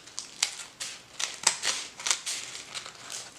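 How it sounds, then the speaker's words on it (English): Scissors make a rapid series of crisp snips and papery crinkles, trimming excess paper mache from the rim of a bowl close by, without any talking. "I'm going to take my scissors and now trim the excess off the rim"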